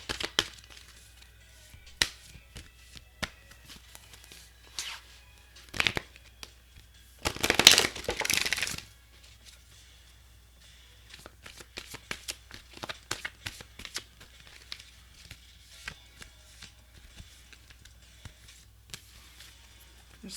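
Tarot cards, three decks, riffle and flap softly in scattered bursts, with one longer, louder shuffle in the middle and quiet handling sounds around it.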